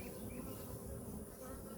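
Honeybees buzzing in an open hive during a beekeeping inspection for Varroa mites, a faint continuous drone with a steady hum and no voices.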